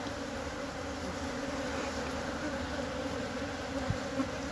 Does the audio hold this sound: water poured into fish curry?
no